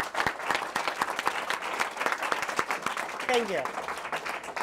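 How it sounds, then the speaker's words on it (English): Audience applause fills a community interfaith event hall, a steady wash of clapping with scattered individual claps, while a voice speaks briefly over it near the end. "So can we just give Earl a quick round of applause?"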